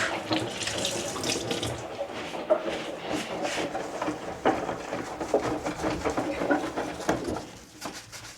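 A tap runs into a sink during household cleaning, a steady close splashing stream with clinks of items being handled, and faint birdsong audible in the background.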